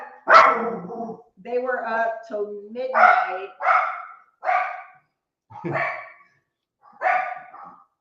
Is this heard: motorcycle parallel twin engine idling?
no